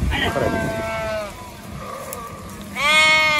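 Sheep kept by a shepherd bleat in a couple of wavering calls, one at the start and another near the end, close by with a person talking quietly in between.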